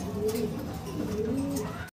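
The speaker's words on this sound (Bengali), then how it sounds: "কোয়ালিটি সম্পূর্ণ একটা কবুতর কিন্তু" Pigeons coo at a wholesale pigeon seller's market, giving a close, steady stream of throaty rolling calls that overlap throughout with no pause.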